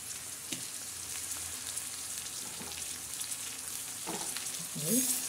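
Garlic, cumin, ginger and green chillies tempering in hot oil for a moong dal dish, a steady, close crackling sizzle throughout with a few louder pops and clinks of stirring near the end.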